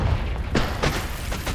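A Confringo spell going off in the Hogwarts Legacy video game gives a few short booming blasts, a muffled burst followed by lighter pops in quick succession, with no talking.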